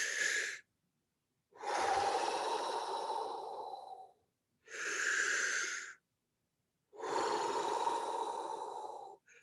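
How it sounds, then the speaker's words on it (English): Four slow, deep diaphragmatic belly breaths are heard up close, with long airy inhales and exhales separated by short silent pauses, in a calm guided breathing exercise with no talking. "Taking 3 deep breaths using your diaphragm."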